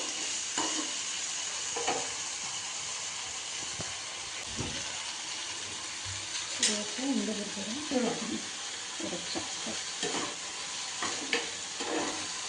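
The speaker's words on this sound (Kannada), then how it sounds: "ಇದು ಸ್ವಲ್ಪ ಆಯಿಲಲ್ಲಿ ಚೆನ್ನಾಗಿ ಫ್ರೈ ಆಗಬೇಕು." Food frying in a little oil in a pan on a stove, a steady close sizzle with occasional stirring clatter and spatter pops, and someone speaking briefly in the middle.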